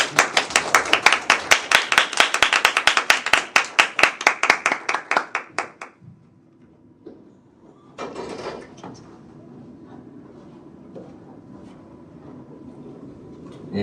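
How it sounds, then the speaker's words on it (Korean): A burst of clapping from a group, loud and steady for about six seconds, then it dies away into quiet room noise. "나오실 때 큰 박수 부탁드리겠습니다."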